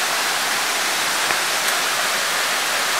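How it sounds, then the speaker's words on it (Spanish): A small waterfall in Oporapa, Huila, Colombia, gives a constant broad rushing wash of falling water, steady and close, with no voices over it. "estamos en una pequeña cascada"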